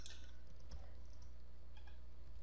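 Faint, close clicks of typing on a computer keyboard, a few scattered light keystrokes over a steady low electrical hum.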